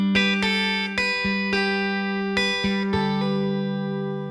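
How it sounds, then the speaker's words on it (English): A guitar picks out the chorus of The Beatles' Here Comes The Sun at a slowed-down tempo, clear plucked notes ringing one after another in an even rhythm, close and alone. "So the next bit we get to is the chorus, and this sounds like this slowed down."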